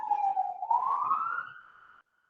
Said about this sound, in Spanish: solo pasa la ambulancia hoy